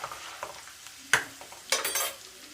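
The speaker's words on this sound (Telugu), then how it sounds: "సో చూడండి వేగిపోయింది" Tempering with asafoetida sizzles in oil in a pan for tomato pickle, a quiet hiss broken by a few sharp crackling bursts as a spoon stirs and scrapes.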